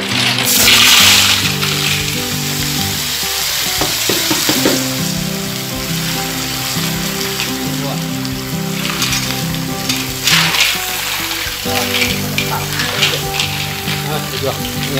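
Mountain snails stir-fried with lemongrass and chili in a hot pan, a loud continuous sizzle with scraping and tossing of shells throughout, steady and close.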